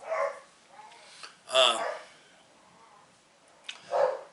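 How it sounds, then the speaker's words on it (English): Four-month-old puppies bark and yip in the background with a hunting dog owner nearby: a few scattered short barks and whimpers, moderately close, with a voice heard between them. "You probably hear my puppies barking in the background"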